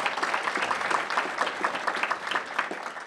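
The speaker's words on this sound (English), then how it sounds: "Give them a round of applause." An audience applauds at a mayoral scholarship announcement, a thick, continuous spread of clapping from many people in an indoor hall, steady and fairly close for a few seconds.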